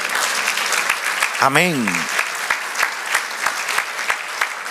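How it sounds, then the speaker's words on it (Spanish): Church congregation applauding, a steady rattle of clapping through the whole stretch, with a sung or chanted voice rising briefly over it and speech mixed in. "Dale un aplauso al Señor."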